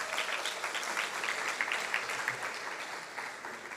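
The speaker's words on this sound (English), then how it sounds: "I think we can give them another round of applause." Audience applause fills a room at a Mastercard Foundation event, a dense, steady wash of many hands clapping at moderate distance for several seconds with no voices over it.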